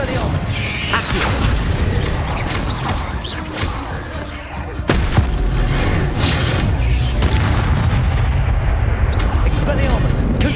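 Spell blasts from Confringo and Incendio in Hogwarts Legacy, a dense run of booming impacts and crackling bursts layered with game effects, loud and continuous with a heavier blast near the midpoint.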